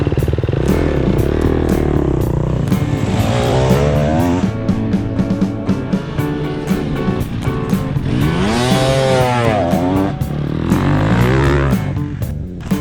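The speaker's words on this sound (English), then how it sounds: "going down into second gear seems to help slow the bike down as well" A dirt bike engine roars loudly and close, the revs rising and falling as the rider downshifts into second gear and uses engine braking to slow for a corner after running wide open.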